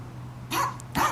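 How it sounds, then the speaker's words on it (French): Small dogs barking at an animal sanctuary home to a cowboy's three dogs, including a chihuahua and a Jack Russell-type, two sharp close barks about half a second apart over a low steady background hum. "Et c'est la maison des petits chiens ici."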